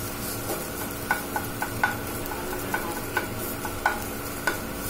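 Paneer fries in oil in a pan with a faint, steady sizzle, punctuated by light, regular clicks and scrapes of stirring.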